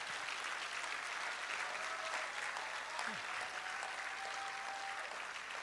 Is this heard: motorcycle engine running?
no